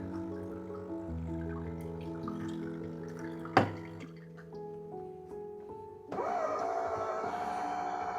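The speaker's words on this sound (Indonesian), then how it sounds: "keluar airnya untuk cuci ya" Water streams from a Ferratti Ferro FCM T3 fully automatic coffee machine during a rinse cycle, a steady trickle under a machine hum, with a sharp click partway through and a louder rush of flow near the end.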